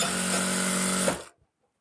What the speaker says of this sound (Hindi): तो चारों तरफ मैं सिलाई लगा के इसको जोड़ देता हूँ मैं।